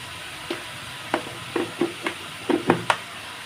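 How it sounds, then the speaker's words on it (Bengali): Mixed vegetables fry with salt and turmeric while a spatula stirs them, giving about eight distinct scrapes and clacks over a soft, steady sizzle, close up with no voices. "নেড়ে চেড়ে নিচ্ছি, যাতে সবগুলো সবজির সাথে লবণ, হলুদের গুঁড়ো এগুলো ভালোভাবে লাগে।"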